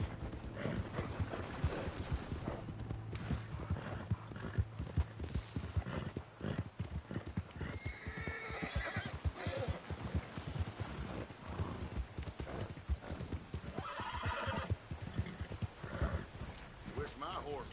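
Steady clip-clop of horse hooves runs throughout, with an occasional whinny, while people talk over a busy, layered soundscape in the video game Red Dead Redemption II.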